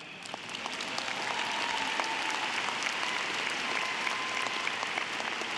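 Steady applause from a graduation crowd, many hands clapping continuously at an even level throughout, dense and fairly close.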